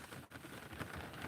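Light rain falls steadily in an outdoor morning setting, a soft, even hiss of drops on surfaces lasting throughout, fairly quiet with no talking.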